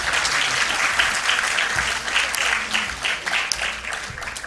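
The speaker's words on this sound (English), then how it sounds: "Please, a huge round of applause." Audience applause rings out at a sports and cultural program for SCI Day at a spinal cord injury centre, steady dense clapping that fills the room and stays loud throughout, with a few brief voices mixed underneath.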